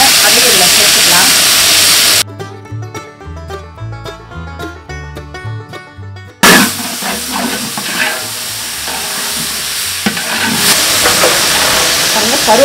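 Mustard seeds and moong dal frying in hot oil in a large pot while cooking for a big crowd, a loud, broad sizzle and crackle that breaks off into a music interlude and then returns strongly.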